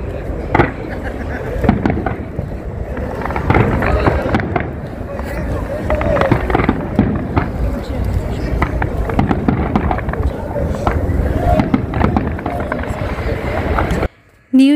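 New Year's Eve fireworks pop and crackle steadily in an outdoor spot near a building in Dallas, forming a dense, rumbling wash of bursts over a constant background roar. People talk beneath the noise, and the sound cuts off briefly at the end.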